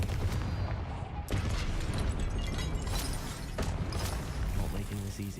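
Confringo fire spells go off in Hogwarts Legacy combat as loud, repeated explosive bursts within a busy mix of battle effects, with speech heard alongside.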